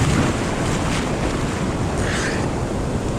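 Big high-tide ocean waves crash and roar at Kuta beach in Bali, a loud continuous wash of surf with wind buffeting the microphone throughout, no voices.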